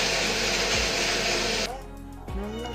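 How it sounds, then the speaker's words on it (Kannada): Kitchen mixer grinder whirring loudly as it grinds homemade soap ingredients into a fine paste, a steady high motor roar that cuts off and briefly restarts near the end. "ಮಿಕ್ಸಿ ಜಾರಿಗೆ ಹಾಕ್ಕೊಂಡು ಸಣ್ಣಾಗಿ ಪೇಸ್ಟ್ ಮಾಡ್ಕೊಂಡು"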